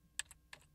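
A few quiet, crisp keystrokes on a computer keyboard come close together as a short command is typed, faint and alone.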